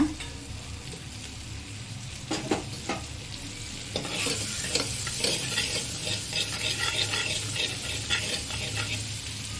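Cumin seeds sizzle in butter in a pan for pav bhaji, starting with a few sharp stirring scrapes and then swelling into a denser, louder crackle that carries on steadily.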